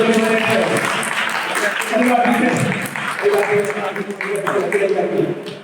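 A congregation at a prayer meeting clapping their hands, a sustained patter of applause running underneath loud talking throughout.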